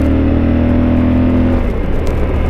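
A Yamaha Super Tenere motorcycle accelerates hard on a winding road, its engine roaring loud and close with a rising whir and strong wind rush.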